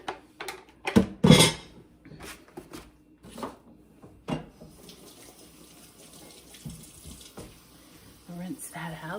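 Water runs steadily from a kitchen tap as a food processor bowl is rinsed out after making a matzo meal mixture for cholent, with splashing and clunks of the bowl under the flow and a voice speaking faintly.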